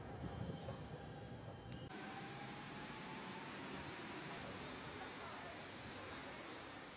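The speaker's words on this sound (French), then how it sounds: "On a pris le métro" A Paris metro train rumbles steadily along, a continuous, enclosed roar that fills the whole stretch with no clear pauses.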